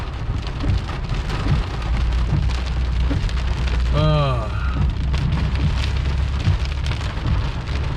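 Heavy rain and hail pelt a moving car in a loud, continuous drumming on the body and roof, with a brief voice rising over the din partway through.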